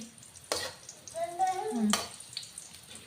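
Vermicelli frying in a pan while being stirred, with soft sizzling and two sharp scraping clatters of the spoon; a brief voice is heard between them.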